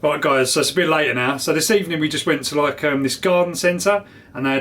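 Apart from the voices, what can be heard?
No everyday noises stand out.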